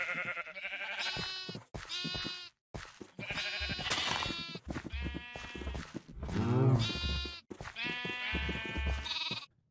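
Cows in Minecraft call in a run of loud, close, drawn-out bleating moos, about eight separate calls with short gaps between them, heard alone without talk.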